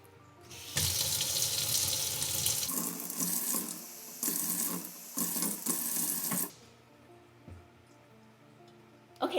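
Tap water gushes into a bottle being filled to 250 ml for a homemade hydrogen peroxide disinfectant spray. The close, steady rush shifts in tone several times over about six seconds, then cuts off, leaving quiet room noise.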